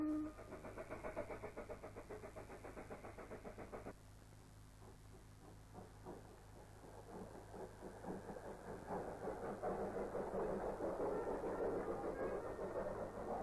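A 15-inch narrow gauge train runs steadily nearby along the sea edge with a continuous rumble and rhythmic clattering that grows louder and fuller toward the end.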